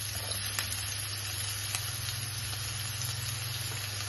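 About two cups of chopped onions frying in oil in a pan give a steady, close, fairly quiet sizzle with faint crackles throughout.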